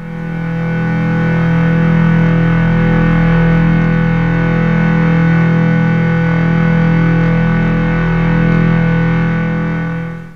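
A loud, buzzy Minimoog analog synthesizer tone with a slow attack swells in gradually and then holds steady, rich in harmonics with a slight wavering pulse running through it.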